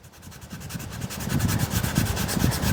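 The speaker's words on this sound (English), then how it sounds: "What you want to do is take your sandpaper" Sandpaper rubbing back and forth over a diamond willow walking stick, a close, steady run of rhythmic scratchy strokes that builds slightly louder, with no talking.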